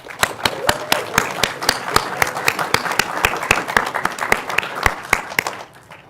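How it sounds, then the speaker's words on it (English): Audience applause for project partners at a community gathering: a steady burst of many hands clapping, fairly close, with sharp individual claps standing out, lasting about six seconds and tapering off at the end. "So let's give them a round of applause too."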